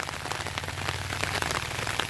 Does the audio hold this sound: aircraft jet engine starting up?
no